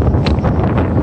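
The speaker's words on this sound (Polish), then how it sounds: "przepraszamy za wiatr, ale jest wichura." Strong gale-force wind on a bare mountain summit buffets the microphone with loud, rough, continuous roaring gusts close up.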